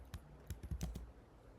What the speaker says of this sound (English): So I'll type my Gmail, which is